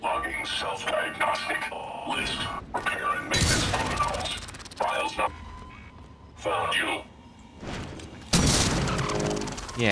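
Repeated video game explosions burst one after another, loud sharp blasts and shattering crashes with debris between them, while voices talk over the chaos.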